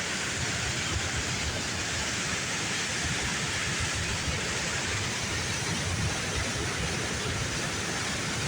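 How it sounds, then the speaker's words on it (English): Water rushes hard over a river dam spillway, a loud, continuous, even roar that fills the whole stretch without pause or voices. "Dam is still running hard."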